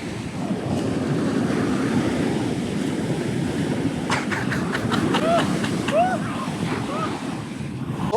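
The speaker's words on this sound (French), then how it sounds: "En vrai, il y a des vraies vagues hein, par contre." Ocean waves breaking on the shore at Albufeira, Portugal, a continuous roar of surf with heavy wind buffeting the microphone, plus a few brief faint high chirps partway through.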